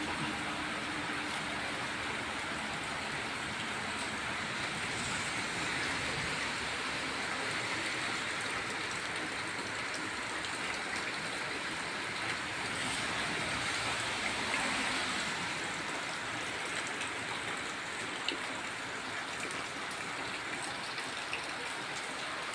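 Rain falling at a temple with a leaking roof, buckets set out to catch drips, a steady, even wash of rainfall continuing unbroken at moderate distance without speech.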